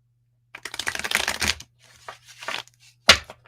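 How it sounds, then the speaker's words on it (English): A deck of playing cards is shuffled up close in a few quick riffling bursts, a long crisp run first, then shorter softer riffles and a sharp final snap. "And one more shuffle for Steve."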